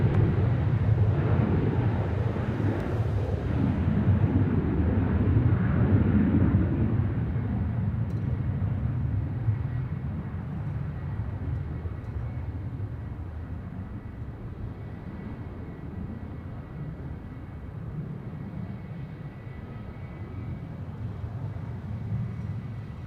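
A Velocity aircraft rolls along the runway, a steady broadband engine and rolling roar from a distance that slowly fades a little over time, with no talking.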